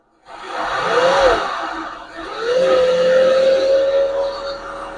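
A homemade free-electricity generator machine starts up with a rising whine that dips, then climbs again and settles into a steady, loud motor hum with broadband rushing noise.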